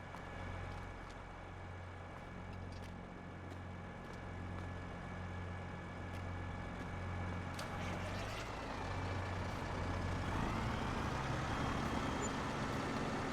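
A truck in the video game Farming Simulator 22 gives a steady, low engine drone that swells slightly toward the end, with no talking over it.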